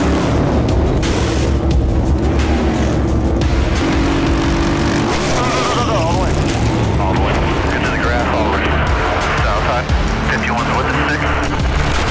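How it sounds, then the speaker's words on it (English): Race cars slam into the outside wall in a major multi-car pileup in turn 4 at Talladega, a loud, dense roar of engines with heavy impacts and skidding throughout, a voice faintly audible beneath. "cars hitting the wall on the outside with a major pileup in turn number 4"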